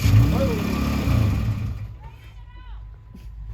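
Jeep CJ5 engine idling close by at an offroad park, a low steady rumble that drops away and settles quieter after a couple of seconds, with people talking over it.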